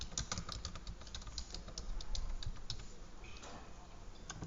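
Soft, quick keystrokes on a computer keyboard tap out a short run of typing, faint and close, with irregular clicks and no speech.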